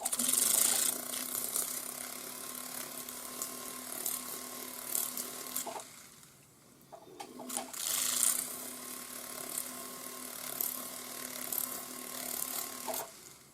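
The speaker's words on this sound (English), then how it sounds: "I'm just going to whiz up the inside using the split mandrel." A split mandrel polishing the inside of a cast ring shank, a steady humming motor whine with a gritty rasp that runs for several seconds, stops briefly, then starts again and runs on.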